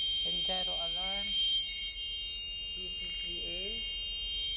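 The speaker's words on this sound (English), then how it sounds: "Here I have a caution and gyro alarm" Gyro alarm and caution buzzer sounding on a ship's navigation panel, steady high electronic tones running throughout beneath someone talking close by.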